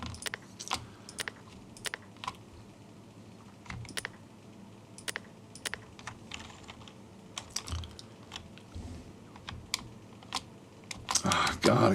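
Computer keyboard typing during a real-time tabletop strategy game, close irregular clicks and clustered keystrokes across the whole stretch, with a denser clatter near the end.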